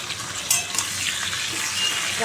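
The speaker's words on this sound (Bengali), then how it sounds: "আলু ভাজা হয়ে গেল এবার নামিয়ে দেবো" Potatoes fry in a pan with a constant bright sizzle, broken by a couple of quick stirring clinks near the start.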